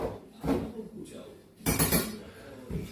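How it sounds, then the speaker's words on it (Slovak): A knife stirs food in a metal pot, giving clinking, scraping metallic knocks in uneven bursts while someone talks over them. "Miešam to nožom."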